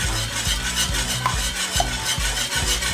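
Whisking Jamaican plantain porridge in a pot, a steady rhythmic scraping and swishing that repeats about twice a second, close and fairly loud with no talking.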